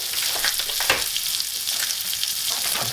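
Popcorn kernels being stirred in a hot pan over medium heat give a steady close sizzle with scattered light scraping clicks, no voices present.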